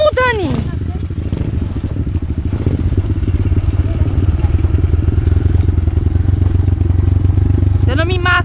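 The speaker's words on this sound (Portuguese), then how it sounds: "Se eu não me matar com essa motinha, tá bom." A small motorbike engine runs close by with a rapid, chugging putter that rises and steadies throughout. Voices talk over it, with a couple of higher whistling or shouting sweeps at the start and end.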